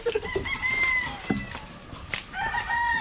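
A rooster crowing nearby in two drawn-out calls, with clucking chickens between them in a rural outdoor setting.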